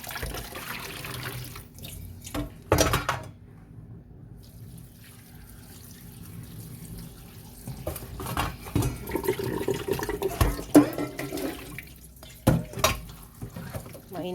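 Hot water drained from a pot of sliced bitter gourd into a kitchen sink: splashing pours and trickling in uneven bursts, louder toward the end, with brief clatters of cookware.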